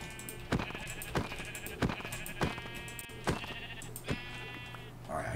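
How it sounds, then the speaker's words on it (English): Minecraft sheep bleat repeatedly at a fairly even pace, about every half second to a second, over a steady hum of game ambience. "We have sheep."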